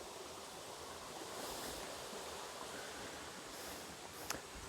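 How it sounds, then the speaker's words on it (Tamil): Water rushing in a stream below a night-time trail on Paruvathamalai hill, a steady broadband wash running without a break, with one brief sharp click near the end. "ஏற்கனவே ஓட தண்ணி ஓடுது கீழே"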